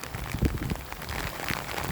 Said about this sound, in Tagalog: grabe ang ulan, 3 araw na po, dire-diretso.